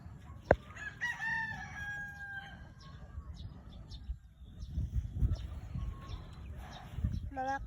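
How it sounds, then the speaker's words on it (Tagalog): Chickens and a rooster on a farm with tomato plants, a rooster crowing clearly near the start, then scattered clucks and shuffling over background noise, with someone talking at times. "Papakita ko na din po sa inyo yung mga manok."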